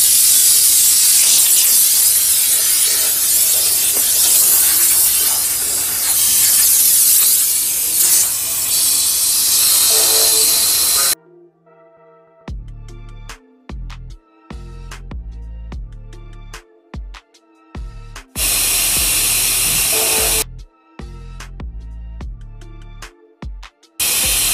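Compressed air from a shop air hose hisses loudly and steadily through an open coolant bleeder on a vehicle cooling system, a broad roar that cuts off abruptly midway and returns in bursts, with no talking.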